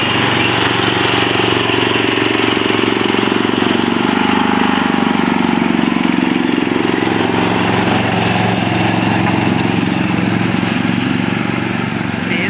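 A Pakistani-made mini tractor engine runs loud and continuous at a steady chugging pitch, close by, without letting up.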